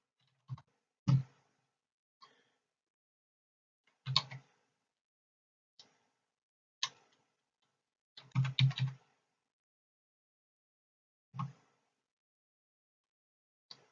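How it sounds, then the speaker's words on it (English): Keys tapped one at a time on a calculator keyboard while entering numbers, sparse crisp clicks at an uneven pace with a short quick cluster midway, close and alone. "So if I pull the calculator up, I will type in 125 times negative"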